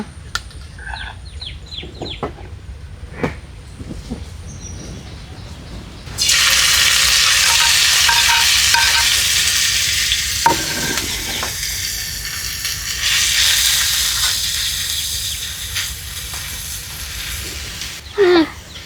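Golden pomfret fish frying in a pan gives a loud, steady sizzle that starts abruptly partway through and holds, with occasional stirring and clatter around it, after quieter kitchen sounds and faint bird calls at the start.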